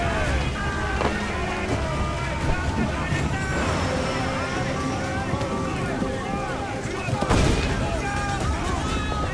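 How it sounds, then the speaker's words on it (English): Ship cannons fire in the pirate game Assassin's Creed IV: Black Flag, with booming blasts and one heavy broadside burst over churning water and wind, while voices shout through the battle. "Uncork the cannons, lad!"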